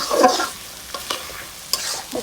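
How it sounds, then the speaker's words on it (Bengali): Rice and red lentils for bhuna khichuri are stir-fried in a hot pot, with a soft sizzle and several brisk spoon scrapes and clacks. "এই যে দেখেন চাউল কষাচ্ছি"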